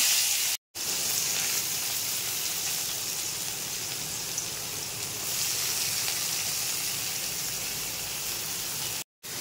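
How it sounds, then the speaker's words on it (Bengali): Onions sizzle steadily in hot oil in a pan for a palak paneer, a dense, even frying hiss broken by two brief silent gaps, with no voices. "এবার পেঁয়াজগুলো তেলের পরে দিয়ে দেব"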